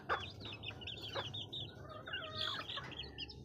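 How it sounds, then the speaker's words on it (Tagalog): One-week-old chicken chicks peeping, a cluster of high, thin chirps repeating close by over a low background hum. "Ito naman guys yung 1 week old natin na mga sisiw."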